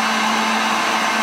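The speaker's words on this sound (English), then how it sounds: "Just a heat gun, nothing special." A heat gun blows a steady, even roar of hot air close by while lead melts in a jig mold, with no talk over it.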